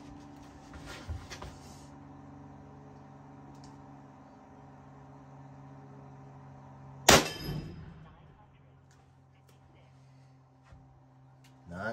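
An AEA Zeus .58 caliber airgun firing a 407 grain hollow point slug: a single sharp, loud crack partway through, standing out against a quiet room hum, with a brief rattle after it.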